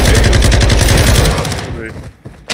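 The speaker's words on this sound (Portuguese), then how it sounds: "Fuzil de assalto aqui." Assault rifle fire in a video game: loud, rapid automatic bursts rattle almost continuously for about a second and a half, then thin out into scattered game noise, with faint voices mixed in.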